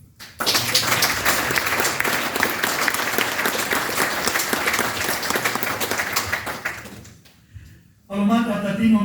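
Loud, dense applause from a crowd fills most of the stretch, fading out before a voice begins speaking at the end.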